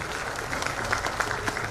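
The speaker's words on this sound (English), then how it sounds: "Yes, you may go ahead and clap," An audience at a launch event claps steadily throughout, a dense patter of hands with no voices standing out.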